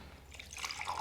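Ethiopian Bonko coffee poured in a small roastery, a brief close liquid splash and trickle with a low hum beneath, lasting about a second.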